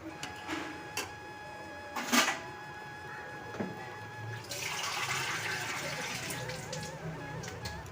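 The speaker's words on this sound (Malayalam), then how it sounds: "നമുക്ക് ആവശ്യത്തിന് വെള്ളം ഒഴിച്ച് കൊടുക്കാം കേട്ടോ ഇതിലേക്ക്" A few clinks and knocks, then water pours steadily into a pot for several seconds, with a faint electrical hum underneath.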